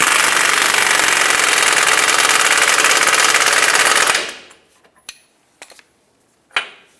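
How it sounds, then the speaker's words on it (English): An air impact gun drives a Ford F-150 front shock absorber nut in a loud, continuous rattling burst for about four seconds, then stops; a few faint clicks and knocks follow. "I'm just going to use my air gun and make it nice and tight"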